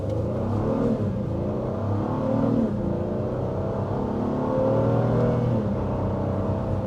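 Inside a 2023 Honda Pilot LX with a V6 engine, a smooth engine hum rises and falls under moderate acceleration, accompanied by a steady road rumble and no voices.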